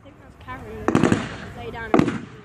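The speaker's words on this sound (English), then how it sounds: "Some more big bangs coming in here now." Pyrotechnic battle bangs at an outdoor World War 2 reenactment: two loud, sharp blasts about a second apart, with a cluster of crackling reports, over a background of a voice commentating.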